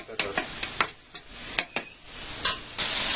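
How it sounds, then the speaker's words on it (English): Finely chopped garlic, three cloves, fries in a pan beside onions, sizzling steadily while a utensil scrapes and stirs in repeated sharp strokes, close and fairly loud with no talking. "I'm going to add in 3 cloves of garlic that I finely chopped and get them going well."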